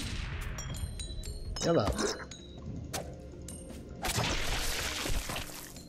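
Self-destruct explosion in the action survival video game Grav, a loud burst of blasts and crackling debris erupting midway, with further crashing noise later and a voice talking over parts.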